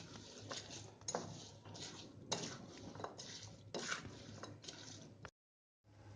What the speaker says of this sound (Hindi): और इसको अच्छे से मिक्स करेंगे